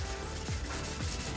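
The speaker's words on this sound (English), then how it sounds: "we'll dip it in water and we'll sand it to get rid of the orange peel" Wet sanding of the clear coat on a car bumper, a faint, steady rubbing with soft repeated strokes about every half second, heard close and alone.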